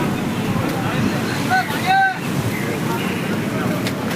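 Strong wind buffets the microphone over steady surging sea waves on a stormy coast, a loud continuous roar with a brief tonal whistle partway through.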